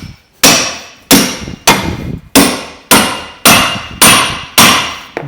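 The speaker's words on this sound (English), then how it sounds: "Put it between the bottom arm and the hub. Tap it gently to get it going." A hammer taps a ball joint splitter wedged between the lower arm and hub on a VW Crafter camper van, eight loud, sharp metallic strikes spaced evenly about two-thirds of a second apart, each ringing briefly before the next.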